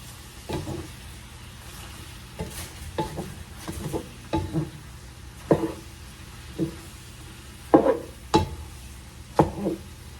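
Cabbage soup is stirred in a pot, with irregular scraping and clunking strokes of a utensil against the pot over a faint simmering background.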